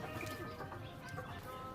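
Soft, faint cooing of a pigeon in a loft, a low burbling call under quiet background noise.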